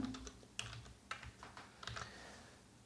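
Computer keyboard typing as JavaScript code is entered, a few quiet separate keystroke clusters with short pauses between them, close and faint, with no voices.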